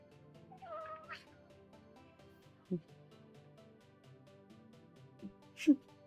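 A cat gives a couple of short meows, one early and another near the end, over a steady hum and a soft background voice; the calls are moderately close but not loud.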